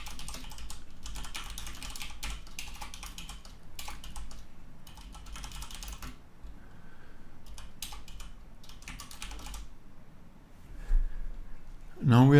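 Typing on a computer keyboard, close bursts of rapid key clicks separated by short pauses, with someone talking over the typing.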